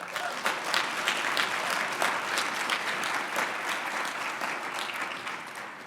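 An audience at an advising summit claps in a dense, sustained round of applause that holds steady throughout.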